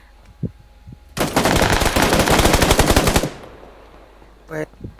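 A long burst of rapid automatic gunfire in PUBG Lite rattles loudly for about two seconds, with a few single shots before and after.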